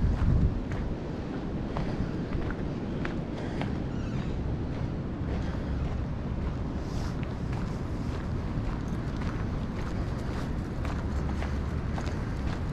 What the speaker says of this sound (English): It's going to get even windier here in a minute, probably.